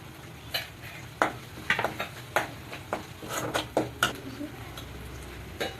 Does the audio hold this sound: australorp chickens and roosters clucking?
no